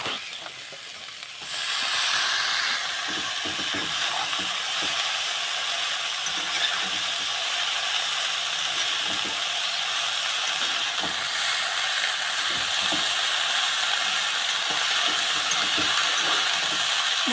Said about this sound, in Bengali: মশলার সাথে বাঁধাকপিটা ভালো করে কষিয়ে নেব।